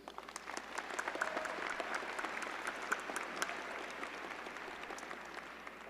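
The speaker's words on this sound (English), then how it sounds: "Another round of applause, please." Scattered clapping from a commencement audience honoring psychology graduates, faint and distant, with individual claps standing out over a thin hum.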